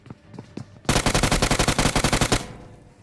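Rapid automatic gunfire in a battle royale video game, a sustained burst of around twenty loud, evenly spaced shots after a few lighter single shots, up close and dominating the mix.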